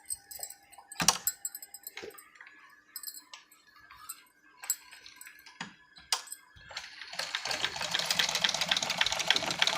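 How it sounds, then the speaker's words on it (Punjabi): A sewing machine stitches a folded trouser belt, starting with scattered ticks and clicks, then settling into a steady, fairly loud rapid whirring run over the final few seconds, with no talking. "ਇਹਨੂੰ ਫੋਲਡ ਕਰਕੇ ਸਿਲਾਈ ਲਗਾ ਦੇਣੀ ਹੈ"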